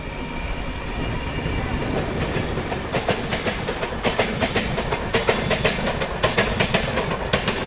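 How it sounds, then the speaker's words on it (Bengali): A local train on the Howrah to Digha line runs steadily along the rails, with a continuous loud rumble and repeated rhythmic clicks and clacks from the wheels passing rail joints, and no voices. "লোকাল ট্রেন তবুও টাইমে।"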